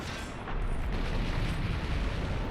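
Cannon shot in Monster Hunter Generations Ultimate, a dense booming blast that swells suddenly and rumbles on loudly with heavy low-end roar for a couple of seconds, no talk over it.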